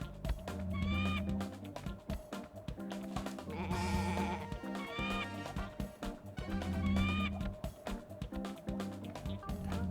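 Sheep in the video game Looney Tunes: Sheep Raider bleat in repeated wavering cries, three or more distinct calls rising over busy game music and effects.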